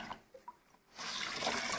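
Water squeezed out of a soaked cloth during home fabric dyeing, heard as a few faint drips and then a steady, close splashing trickle into a container.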